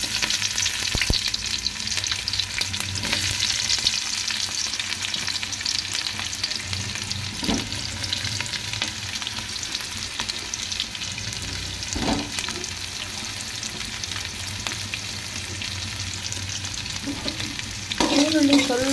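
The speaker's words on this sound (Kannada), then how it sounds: "ಈರುಳ್ಳಿ ಸ್ವಲ್ಪ ಲೈಟಾಗಿ ಬ್ರೌನ್ ಬರೋ ತನಕ ಫ್ರೈ ಮಾಡೋಣ ಈರುಳ್ಳಿನ." Onions fry in a pan for a home-cooked egg rice, a continuous loud sizzle with periodic scraping stirs of a spatula across the pan, steady throughout with no talk.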